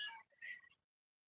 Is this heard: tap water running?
no